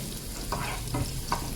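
Garlic sautéing in a pan for chicken afritada hisses steadily while a few quick scraping stirs land in a loose rhythm, close and fairly loud, with no voices.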